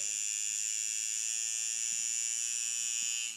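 A high, steady electric buzz drones close by from a Dan Kubin Sidewinder rotary tattoo machine set to a long, choppy stroke, running continuously for a few seconds, loud and harsh with no voices.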